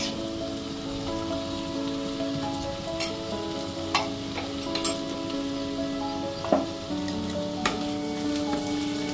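Potatoes with ginger paste sizzle in a pan for a spiced potato curry, a soft steady fry punctuated by sharp clicks and scrapes of a spoon stirring.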